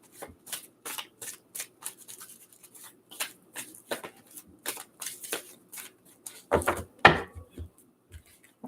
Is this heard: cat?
no